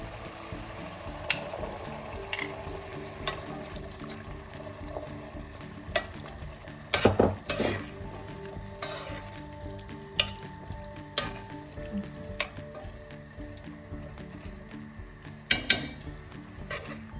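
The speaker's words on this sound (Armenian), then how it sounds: "մեր սոխը, լեչոն համեմունքներով արդեն մի քիչ դաղվել են, եփվել են կամ ավելացնում ենք նաև սիսեռը" Chickpeas frying in a pan with onion, lecho and spices for a chickpea soup give a steady, soft sizzle, broken by occasional clinks and scrapes of stirring, close and alone with no talk.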